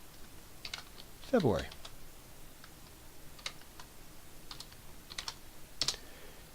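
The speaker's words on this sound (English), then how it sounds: "I'll again type in equals sum" Quick, light keystrokes on a computer keyboard as a spreadsheet formula is entered, scattered taps with a few brief pauses, close and fairly quiet, with a single spoken word near the start.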